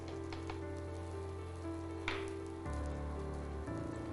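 A green chapati cooks on a hot pan, a quiet, even sizzle with a few faint crackles and one small clatter, steady and close.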